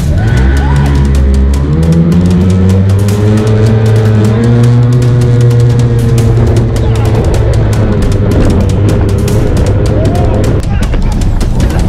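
A powerful motorboat engine roars loud and close throughout, its pitch climbing and holding steady under rushing wind and water noise.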